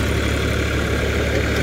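A 50 HP diesel tractor engine idles steadily up close, a dense, even low rumble that holds without change and has no voices over it.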